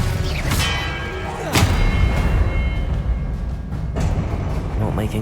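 Spell-combat blasts and impacts in Hogwarts Legacy, a run of loud booming hits over a dense, continuous game battle soundscape with a few sharp transients.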